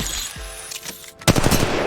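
Rapid gunfire in the mobile battle royale game Apex Legends Mobile while playing Pathfinder, loud bursts of automatic shots in quick succession, with a brief pause before a denser volley.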